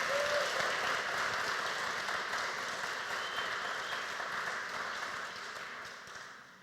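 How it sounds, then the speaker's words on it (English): Concert audience at a Celtic festival applauds the sound crew, a steady broadband wash of clapping that starts full and slowly fades toward the end. "So give them a big round of applause"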